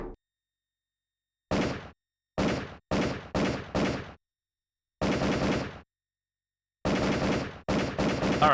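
Bursts of gunfire from the Aliens light gun video game, fired with a realistic gun controller: about nine sharp, loud volleys of rapid shots separated by short silences, with no voices.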